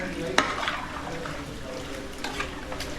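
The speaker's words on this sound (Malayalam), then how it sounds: "പന്നി വരട്ടുന്നു." Pork being stir-fried in a pan at a family restaurant kitchen in Paramattam, Kottayam, with a steady scraping and sizzling wash and a sharp spatula clink near the start.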